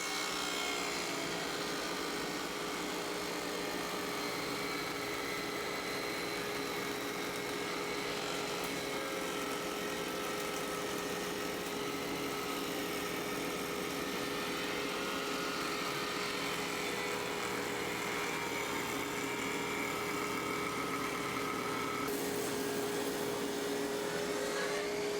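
A MasterForce table saw runs close by, cutting a 3/4-inch dado into green treated pine 4x4, a steady whining roar with grinding texture that holds for the whole stretch.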